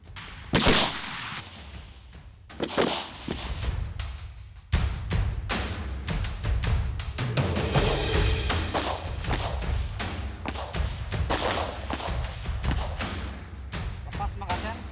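Rifle shots at a Marine shooting practice from a seated position, several sharp loud reports spaced irregularly, with people talking in between.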